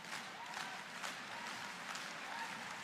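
A crowd cheers and applauds at a men's volleyball state final, a steady roar of clapping and shouting that fills the space without a break, with voices blended in.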